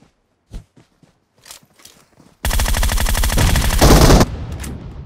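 Rapid automatic Groza rifle fire in PUBG Mobile, a loud sustained burst of about two seconds after a few quiet footsteps and faint shuffles, fading into a softer tail.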